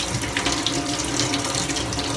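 Hot water runs steadily from a sink tap, a continuous close, even hiss and splash with no voices.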